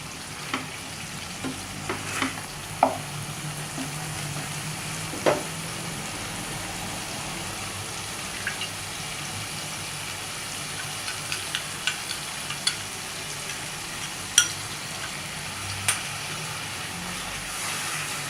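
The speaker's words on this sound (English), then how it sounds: "Now it's time to add the paste of cashew nuts, almonds and watermelon seeds." Cashew, almond and watermelon seed paste sizzles and fries steadily in a pan, with scattered scraping stirs and occasional sharp clinks of a spoon against the metal over a continuous hiss.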